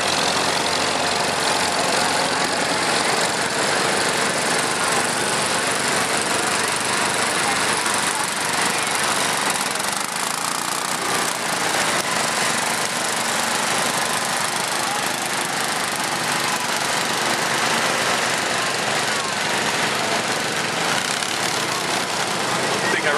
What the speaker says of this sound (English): Another tractor that's seen some time in the field.